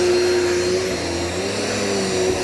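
A Dirt Devil multisurface vacuum cleaner runs with a loud, constant motor whine and airflow roar, heard close up and unbroken throughout.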